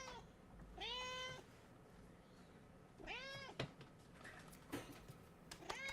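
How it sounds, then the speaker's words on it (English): A cat meows several times in separate, clear cries spaced a second or two apart, fairly close and alone over quiet background noise. "Meow."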